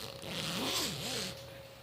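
A zipper drawn along the top of a fabric project bag with elephant print outside and gray polka dot lining, one close, smooth, continuous zip lasting about a second.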